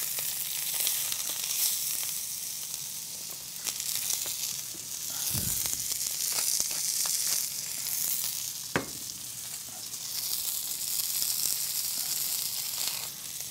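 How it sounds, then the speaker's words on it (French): A veal fillet sears in a hot pan, turned to brown every side, giving a continuous close sizzle and hiss with a few sharp scrapes and knocks. "on est occupé à rôtir toutes les faces, chaque face de chaque côté"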